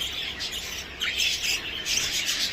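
Many small birds chirp and twitter continuously together in an aviary, a busy, bright chatter filling the space at moderate volume.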